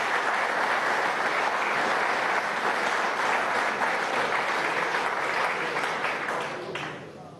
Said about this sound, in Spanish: Gracias, un aplauso al diario Panorama.